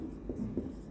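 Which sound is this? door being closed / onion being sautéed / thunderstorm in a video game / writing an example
writing an example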